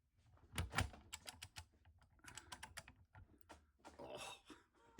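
A big torque wrench ratchets while tightening a 3D printed Scotty-style connector to 70 foot-pounds, giving a close series of sharp, irregular clicks and small knocks.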